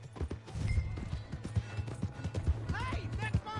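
Horse hooves clip-clop in a steady stream of soft beats in Red Dead Redemption 2, fairly close and moderately loud, under a game soundtrack, with brief shouted voices near the end.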